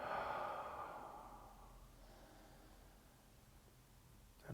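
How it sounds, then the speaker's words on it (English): A single deep exhalation at the close of a Vinyasa yoga relaxation, a soft breathy sigh that starts fairly strong and slowly fades into quiet, with no talking over it. "Take a deep inhalation and let go, exhale."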